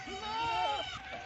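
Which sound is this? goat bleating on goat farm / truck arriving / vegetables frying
goat bleating on goat farm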